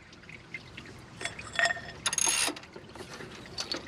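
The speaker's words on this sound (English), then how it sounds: "Pull the belt tensioner, take this off, take one of your belts off." Clicks, clunks and a scraping rattle as the belt tensioner on a Dodge R/T engine is pulled back with a wrench during a water pump job, irregular and close, louder bursts midway, no speech.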